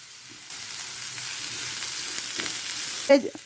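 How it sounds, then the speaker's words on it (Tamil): Vegetables, including finely chopped carrot, sizzle and fry in a pan with a steady close hiss, followed by a brief clatter near the end. "நம்ம இந்த வெஜிடபிள்ஸ் எல்லாம் நல்லா வதக்கிக்கலாங்க."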